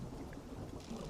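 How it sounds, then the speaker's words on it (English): Storm ambience from the fishing video game Dredge: a low, steady thunder rumble blends with a hiss of rain over open water, quiet and continuous with no talking. "Is there a storm coming in?"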